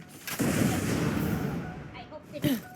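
A grenade blast goes off in the sci-fi shooter Borderlands: The Pre-Sequel, a loud boom followed by a second burst, with some voices mixed in with the explosions.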